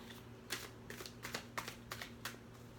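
Tarot cards shuffled by hand, about eight soft, crisp riffling bursts in a steady rhythm, close and quiet over a low background hum, with no talking.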